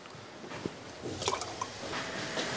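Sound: two liters of water poured into cooking chicken nihari

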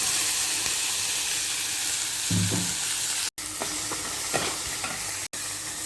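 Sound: onion paste sizzling in mustard seed, curry leaf and chilli tempering

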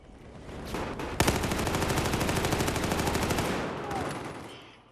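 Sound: gunshots in a video game

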